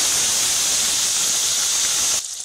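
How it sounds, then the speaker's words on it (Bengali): Onions hiss and sizzle in hot oil in a wok (kadai) for a Bengali tengra fish curry, a steady loud frying noise that cuts off abruptly near the end. "কড়াইতে প্রথমেই দিয়ে দেবো পেঁয়াজ।"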